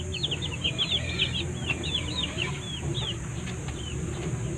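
Backyard chickens, including a brooding hen, clucking and chirping softly over a steady low background hum, with scattered bird calls throughout.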